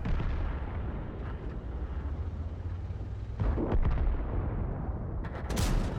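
A tank cannon shot in World of Tanks rings out amid dense, rumbling battle noise, a heavy boom landing partway through over a continuous roar, followed by more sharp crackles near the end.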